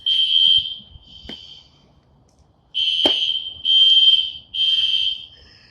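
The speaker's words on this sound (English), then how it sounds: "I got my old food, but fire alarm going off." A school fire alarm goes off with loud, shrill electronic tones in repeated bursts separated by gaps, echoing slightly across an empty outdoor setting during a winter storm. A sharp click or knock cuts in partway through. No one speaks.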